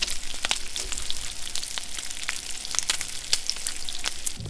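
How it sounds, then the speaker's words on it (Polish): Strips of bacon sizzle and crackle in a hot pan, a steady close-up hiss dotted with sharp spitting pops throughout, with no voices. "jeżeli chcecie sobie posłuchać po prostu świerczącego bekonu"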